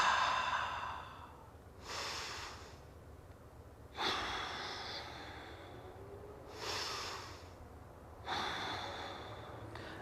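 Slow, deep breaths drawn during a yoga posture for diabetes, with about four long, airy exhalations spaced evenly a couple of seconds apart, close and quiet with no talking.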